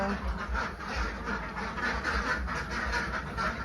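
A flock of Khaki Campbell and other laying ducks quacks steadily in a farm pen, with many overlapping calls at moderate distance and a constant busy background.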